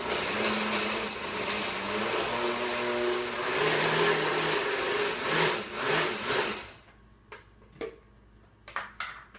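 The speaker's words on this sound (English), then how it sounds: "I don't want to overwhelm the blender." A blender making hummus whirs loudly and steadily for several seconds, its pitch wavering as the load shifts, then cuts off, leaving a few clinks and knocks.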